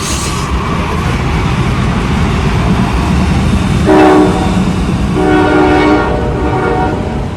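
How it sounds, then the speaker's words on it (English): A train rumbles past at close range at a roundhouse during a reenactment event, a loud steady roar with rattling wheels, broken by two long horn blasts. "there's a train going by right now"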